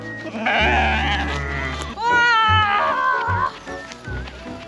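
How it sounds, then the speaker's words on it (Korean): A flock of sheep at a farm attraction in Chiang Mai, Thailand, runs over for food with loud, overlapping bleats close by. Steady low rumbling and some voices sit underneath. "양들이 오고 있어"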